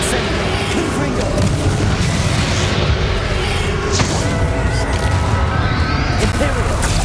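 Dense, continuous magical explosions and crashes from the Confringo fire spell in the Hogwarts Legacy video game fill the scene, loud booms layered over battle noise, with a voice speaking over them.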